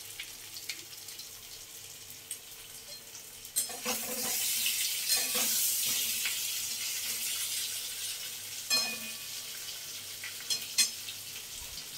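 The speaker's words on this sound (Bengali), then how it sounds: "আমার আলুটা ভাজা হয়ে গেছে" Parboiled potatoes fry in a pan, a steady sizzle that swells and fades, with a few stirring scrapes and clinks near the end.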